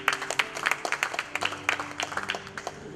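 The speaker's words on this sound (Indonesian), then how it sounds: "Yang setuju berikan tepuk tangan kepada Tuhan." Church congregation claps together in a dense, moderately loud burst of applause. A steady low tone from the room runs underneath.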